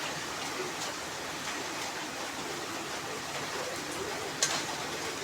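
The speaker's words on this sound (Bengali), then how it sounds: "বৃষ্টি এক ঝরে ঝরে পড়ছে বৃষ্টি।" Rain falls steadily as an even hiss close by, with a few brighter drips standing out toward the end.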